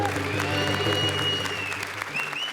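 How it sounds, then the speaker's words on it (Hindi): Applause from a comedy show audience rolls steadily throughout, with a voice speaking over it. "एकांकी शुरू, जोरदार तालियां"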